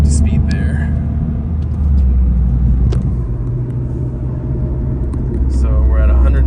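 Interior road noise from a 4th-gen Mazda 3 fitted with a Corksport short ram intake, cruising at about 35–40 mph: a loud, steady low rumble of engine and tires, with brief voices over it.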